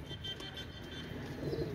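Pigeons kept by a breeder coo softly in low, rolling murmurs at close range against a faint background hum, with no talk over them.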